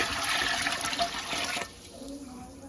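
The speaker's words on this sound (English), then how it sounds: "We're going to add the vinegar right into this pot." Vinegar poured into a pot for canning pickles, a loud continuous splashing pour that stops abruptly, leaving a quieter room.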